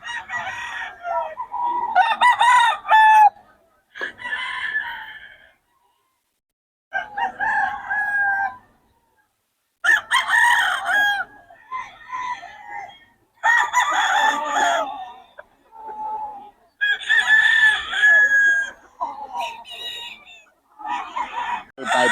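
Several roosters crow repeatedly in loud, close bursts separated by short pauses, with some clucking between the calls, at a festival expo.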